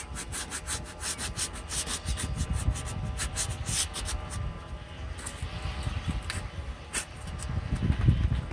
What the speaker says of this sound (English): you can either fold a piece of sandpaper over by hand, kind of clean that line up a little bit